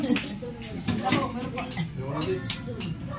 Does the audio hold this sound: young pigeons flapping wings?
no